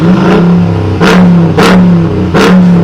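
A Hennessy Ram TRX with an upgraded supercharged 6.2-liter V8 revs hard several times, each loud blip rising sharply with a whine before falling back to a rumbling idle, close up.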